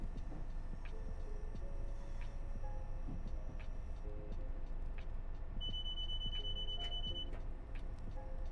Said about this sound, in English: It sounds like a fire alarm.